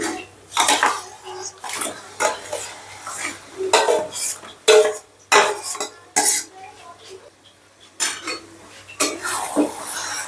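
Marinated chicken going into a pan of browned spice masala for Punjabi chicken curry, with repeated clatter and scraping of utensils against the pan, irregular stirring knocks and bursts at close range, no speech.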